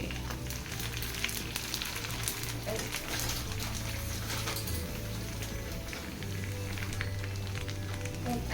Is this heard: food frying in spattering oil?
yes